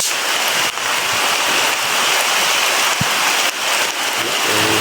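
Heavy rain pours down in a steady, loud, continuous roar with a broad hiss, no voices, during a downpour where people are getting soaked outdoors.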